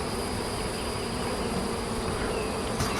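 A dense, steady hum of honey bees fills an open hive during a late-June inspection, continuous and close with no pauses, alone without talk.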